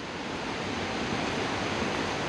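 Steady broadband roar of Cumberland Falls near Corbin, Kentucky, a waterfall pouring into the river below, heard as a dense, unbroken rush of white water with no voices.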